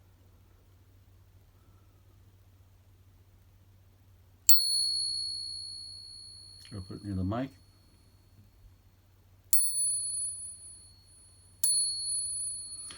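A silver bullion coin tapped with a soft, smooth piece of metal gives three bright, high, ringing tones that each decay slowly; a short spoken remark falls between the first and second rings.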